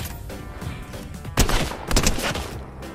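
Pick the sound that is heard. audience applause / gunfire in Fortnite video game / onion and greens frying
gunfire in Fortnite video game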